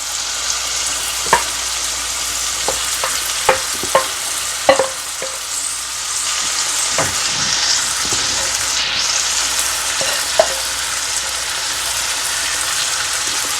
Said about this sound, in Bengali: এবার মোচাটা দিয়ে দিই